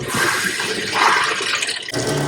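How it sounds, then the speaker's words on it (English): Water sloshes and gurgles loudly in the cooling tank of an xTOOL P2 CO2 desktop laser just after power-on, a continuous churning flow that shifts in strength and briefly dips near the end. "And you can hear that water sloshing around."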